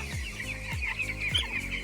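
Soft, repeated clucking from a few chickens being treated for pox, drinking from a water hopper nearby, steady background noise underneath.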